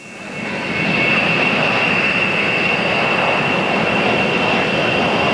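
A B-1 bomber's jet engines roar steadily, swelling up over the first second, then holding a loud, continuous, high-pitched whine with no voices.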